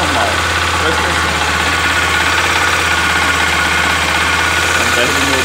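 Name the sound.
Honda XRE 300 2018 motorcycle engine idling with abnormal noise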